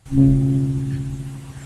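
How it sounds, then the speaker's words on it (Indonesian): A single gong is struck once. Its deep, humming tone blooms and then sustains with a slow, wavering decay for over a second, sounding alone and fairly close. "itu adalah suara gong"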